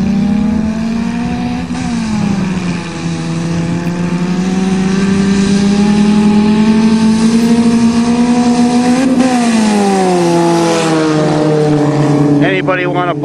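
Imported tuner cars, among them a 1990 Toyota GTS and a Talon, race with loud, close engines droning and revving in rising and falling sweeps throughout, with voices talking over them.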